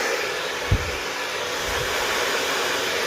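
A hair dryer blows steadily at close range while drying hair at the roots, a continuous loud whooshing hum with a couple of soft low bumps from handling.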